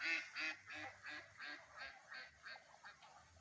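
A flock of domestic ducks in a rice field gives rhythmic, repeated nasal honking quacks, roughly two calls per second, at a modest distance and fairly faint.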